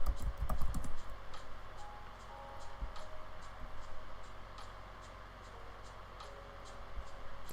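Rapid typing on a computer keyboard, with a dense burst of close clicks at the start, then scattered keystrokes over a steady background hum.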